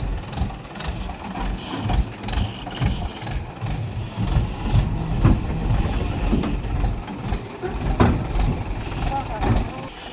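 A Mahindra 575 tractor reverses, its diesel engine idling and chugging at a low, uneven rumble close by while someone talks over it throughout.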